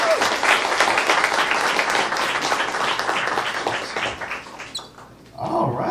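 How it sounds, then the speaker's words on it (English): Audience applause for a performer at a college artist spotlight, dense clapping from a crowd that gradually thins out, then a voice starts talking near the end. "Once again, let's give a round of applause for Stella."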